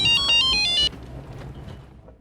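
A phone ringtone plays a loud repeating electronic melody for under a second, then cuts off, leaving only low room noise.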